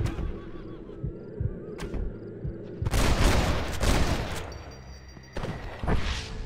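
Gunfire in the Western video game Red Dead Redemption: a dense burst of shots crackles around the three-second mark, followed by another volley near the end, over a low rumbling game background.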